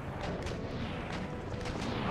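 Continuous naval cannon fire from ships engaging a heavy frigate and fifth-rate in Empire: Total War, a dense rumbling barrage of overlapping booms that swells slightly toward the end.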